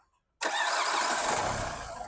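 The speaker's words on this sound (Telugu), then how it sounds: "సింగిల్ సెల్ఫ్లో బండి స్టార్ట్ అవుతుంది" The diesel engine of a 2017/18 Renault Duster fires up in one quick start after silence, settling straight into a loud, steady, close idle.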